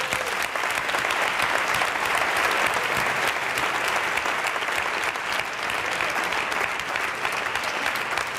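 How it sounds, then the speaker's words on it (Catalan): Strong, sustained applause fills a theatre during a performing arts awards ceremony, a dense and steady wash of many hands clapping at close range for the whole stretch, with no talking over it. "Fort aplaudiment."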